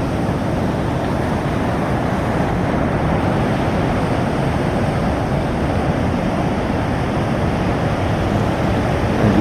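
Heavy sea waves breaking over a sandbank at a river bar produce a constant, loud, broadband roar with no distinct individual breaks. Wind buffets the microphone and there is no talk.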